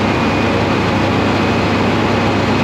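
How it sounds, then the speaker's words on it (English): A car engine runs at a very high idle, a steady, loud, broadband roar that holds constant and close with no change in pitch or level. "That is a very high idle"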